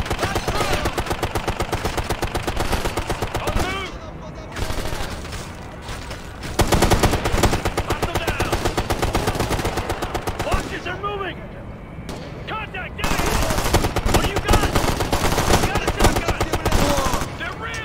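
Dense rapid gunfire in Tom Clancy's Ghost Recon: Future Soldier, including a shotgun, with sustained automatic bursts broken by short pauses and heavy blasts, loud and continuous over game sound effects.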